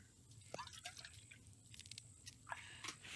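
Water is collected in The Infected survival video game, with faint wet sloshing and dripping sounds plus a few squishy liquid blips over a low background hum.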